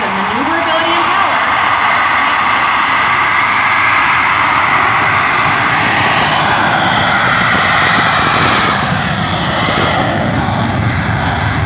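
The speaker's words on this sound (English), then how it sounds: "Let's watch and listen as Captain Kutrick lights the afterburners and demonstrates the awesome maneuverability and power." CF-18 fighter jet lighting its afterburners on an evening takeoff at a Canada 150 air show, a loud continuous roar that holds steady for the whole stretch, heard close and dominating the scene.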